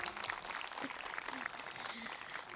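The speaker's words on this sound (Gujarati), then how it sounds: "રુદ્ર માટે ફરીવાર એકવાર જોરદાર તાળીઓ" Applause for a young boy named Rudra at a Leuva Patel community gathering, a steady, fairly faint wash of clapping from a crowd that runs the whole time.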